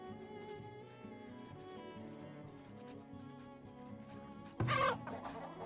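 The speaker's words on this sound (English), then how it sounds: "Chickens are doing pretty decent." Chickens in the Farthest Frontier game, a wasteland farming map, cluck steadily under a musical soundtrack, with one loud close cluck bursting out near the end.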